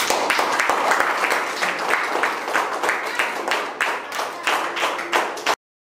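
An audience claps during a dance and storytelling performance, a close, busy patter of hands pulsing in uneven waves before stopping abruptly near the end.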